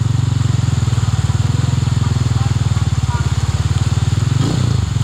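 A motorcycle engine chugs steadily up close while riding through deep floodwater in Minalin, Pampanga, a rough low throb that holds for several seconds before a brief splashy surge near the end.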